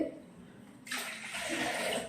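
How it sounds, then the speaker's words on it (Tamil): Water is poured into washed lentils in a pot, a soft splashing gush that starts abruptly partway through and continues for about a second. "இப்போ இந்த பருப்பில் வந்து எவ்வளோ தண்ணி ஊற்றுறேன்னு பாருங்கள்"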